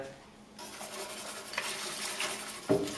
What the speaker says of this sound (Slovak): Si premiešame za občasného miešania, spojíme.